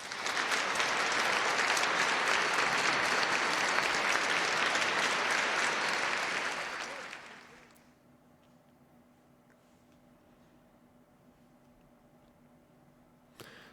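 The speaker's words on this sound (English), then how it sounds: "give a round of applause for all of the teams that competed in today's Perfect League" Loud, dense applause from a large crowd at a baseball league playoff event rolls on for several seconds, then fades out, leaving near silence with a faint hum.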